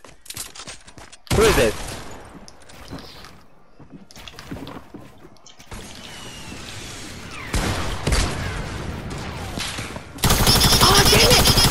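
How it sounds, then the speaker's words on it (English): Distant gunfire crackles in a video game, scattered bursts of shots cutting in and out amid other game noise, with a loud sustained burst near the end and a voice speaking briefly. "somebody's shooting like that from the distance"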